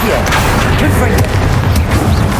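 Fire spell blasts boom out in Hogwarts Legacy amid a dense, continuous battle din, with repeated explosive bursts and voices shouting over the chaos.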